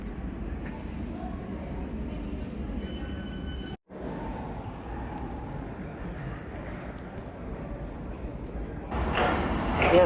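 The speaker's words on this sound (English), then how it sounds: "Here comes the train." A London Underground train approaches at Gloucester Road station with a continuous low rumble and rolling rattle. A brief dropout comes partway through, and brighter wheel and track noise swells as it draws near at the end.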